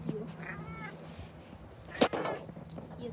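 A cat gives a soft, tonal meow close by, then a louder, harsher meow a moment later, over a low steady indoor hum with rustling.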